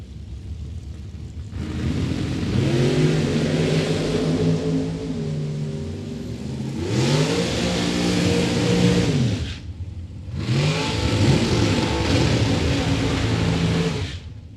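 A 1927 Ford Roadster drag car launches down the strip with a loud, raw engine roar that climbs in pitch through its gears. The run comes in repeated surges with brief dips between shifts and no voice over it.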